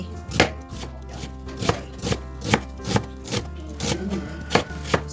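A knife slices an onion steadily on a cutting board, about a dozen sharp, evenly spaced taps close by, with no talking.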